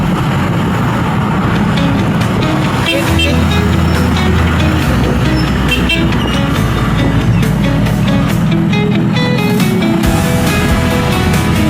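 A truck rolling past on a road, its loud engine rumble and tyre noise heard up close over a constant heavy drone of the recording vehicle's own motion.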